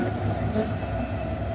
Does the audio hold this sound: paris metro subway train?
yes